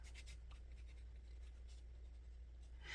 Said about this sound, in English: I just write the date on the back.